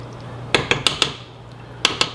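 A spoon scrapes and clinks against a pot while stirring washed rice in plenty of water, six sharp metallic knocks in two bursts over a steady low hum, close and fairly loud.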